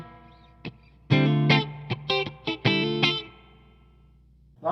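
Electric guitar through the reverb of a Meteoro MAK 3000 amplifier with a Celestion speaker. Single plucked notes and strummed chords ring out loud and close, with distorted tails that hang and fade between hits.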